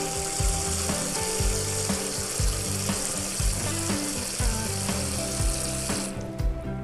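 Water is poured into a container holding golden pothos cuttings, giving a steady, fairly loud splashing hiss that runs for about six seconds over a rhythmic background beat, then stops.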